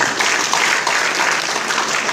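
Applause at a youth Easter church service breaks out right after a sermon, a dense, steady wash of many hands clapping together with no pauses across the whole stretch.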